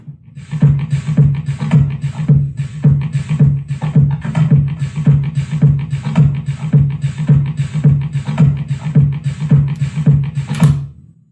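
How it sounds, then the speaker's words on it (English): Grinding, growly bus engine sounds are looped into a tight, steady rhythmic pulse, loud and close, repeating evenly for several seconds with no voices. "This is the sound of a bus, just the grinding, growly bus sounds."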